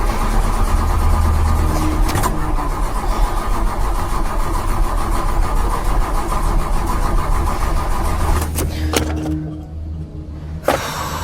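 A car engine runs steadily in a short horror film, a loud continuous low rumble that holds for most of the stretch before cutting off abruptly near the end, followed by brief quiet and a couple of sharp knocks.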